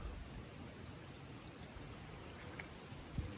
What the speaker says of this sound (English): See how a couple of these springs kind of consolidate right here.